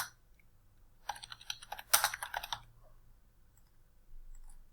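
Close, quiet computer keyboard typing: a short run of soft, uneven key clicks and taps lasts about two seconds between near-silent pauses, with no voices.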